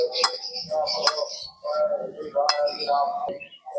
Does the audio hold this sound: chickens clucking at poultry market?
no